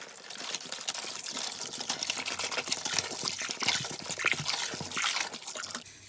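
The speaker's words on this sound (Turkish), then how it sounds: "Su ilave edeceğim." Water pours steadily into a container holding items for a cleansing ritual, a continuous trickling and dripping wash that carries close and fairly loud for about six seconds, with no talking.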